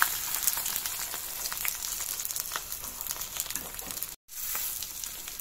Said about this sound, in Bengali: একটা একটা করে আমরা তেলের মধ্যে দিয়ে দেবো বড়াগুলোকে